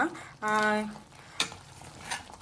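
Crab ghee roast masala fries in a pan and is stirred, giving a steady soft sizzle broken by a couple of sharp utensil scrapes, with a brief vocal hum early on.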